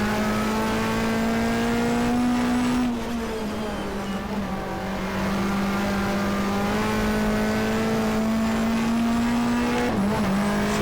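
A race car engine in the GTR2 video game, from a 1994 Australian Manufacturers Championship round at Eastern Creek, holds a loud, steady droning whine, dipping briefly as the gears shift, then climbing again.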